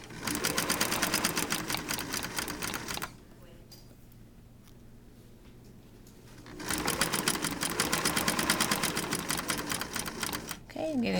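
Sewing machine stitching in rapid, even runs close up, pausing for a few seconds midway with a voice heard faintly, then resuming before a brief final stop.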